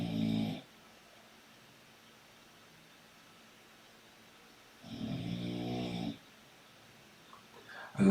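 A dog snoring in a quiet room, two loud rasping snores a few seconds apart with a third starting at the end, separated by near silence.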